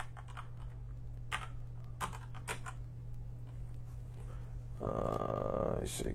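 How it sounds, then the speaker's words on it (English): Fingers tap on a computer keyboard in irregular bursts of crisp clicks over a steady low hum, and the sound grows denser and louder near the end. "Forgive the typing."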